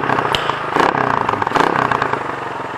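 Motorcycle exhaust fitted with a big elbow muffler and silencer, a close, steady crackling putter at idle with a slight rise in the middle.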